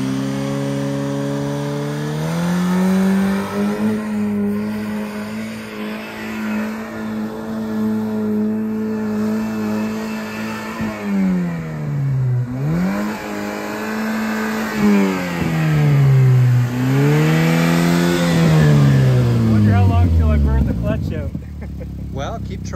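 A Holden G6 revs hard during a burnout, the engine climbing, dipping and climbing again in repeated surges, loud and near, with brief talk over it before the engine cuts near the end.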